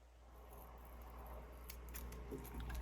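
Scissors snip a small sliver off scrapbooking paper: a few quiet, crisp cutting clicks close by over a low steady hum, with no talking.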